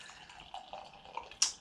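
Shipyard Brewing Smashed Blueberry ale poured from a can into a glass: a close, steady liquid trickle and gurgle lasting under two seconds, ending in a brief sharper splash, with no talking.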